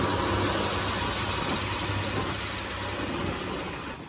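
A loud, steady long-tail boat engine drones with a rough, knocking rumble on Phang Nga Bay, Thailand, running continuously without a break.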